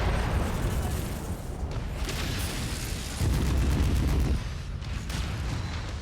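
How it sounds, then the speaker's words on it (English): Incoming missile explosions in a mech combat video game, a dense rumbling blast with crackling debris and a heavier burst midway, loud and continuous. "Incoming missile."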